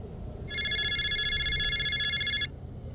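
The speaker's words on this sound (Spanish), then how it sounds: "El teléfono volvió a sonar." One bright electronic telephone ring trills for roughly two seconds, clear and fairly loud over a soft room rumble, with quiet before and after.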